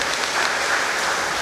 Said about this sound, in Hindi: हम लोग ताली मार करके तीनों फादरों का हमारी पोर्ट ब्लेयर पल्ली में स्वागत करें।